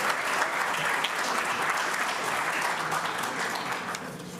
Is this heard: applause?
yes